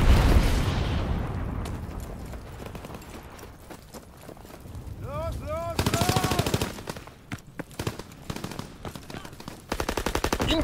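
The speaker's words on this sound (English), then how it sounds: "Incoming enemy artillery!" A Call of Duty WW2 winter battle rumbles with booming explosions and rapid machine-gun bursts, loud and sustained across the scene, with a brief shouted voice partway through.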